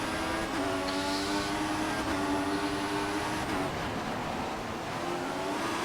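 Racing cars in the F1 2014 video game launch from the grid at the British Grand Prix, a dense, loud engine roar with rising whine held steady throughout, no talk over it.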